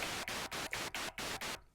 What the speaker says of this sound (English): it doesn't matter which key I push, that's always just white noise